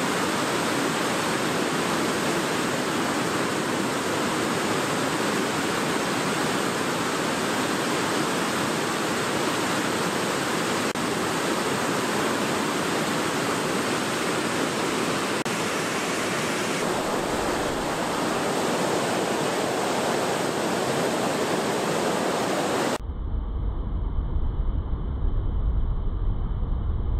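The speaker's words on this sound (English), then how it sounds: "That's an amazing waterfall." A waterfall roars in a steady, dense rush of falling water that holds loud and unbroken for the whole stretch, with a brief shift in tone near the end.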